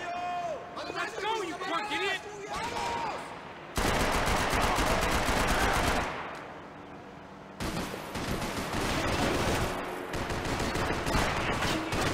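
Gunfire in the Max Payne 3 shooter game, dense bursts of rapid shots and loud blasts that come and go across the clip, mixed with game voices and shouting, with a short quieter stretch in the middle.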